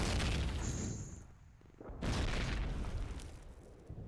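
Grenade blasts in the Call of Duty: United Offensive multiplayer game, deep rumbling booms with a brief quieter gap before a second heavy explosion.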